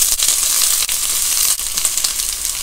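Eggplant frying in hot oil, a steady dense sizzle that fills the whole stretch with crackling and bubbling, close and loud, with no talking.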